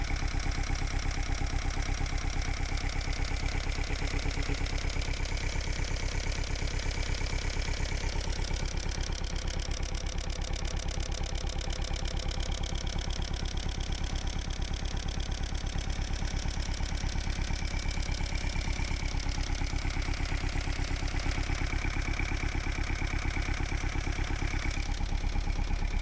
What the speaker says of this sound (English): then we got the engine going, which is what you'll see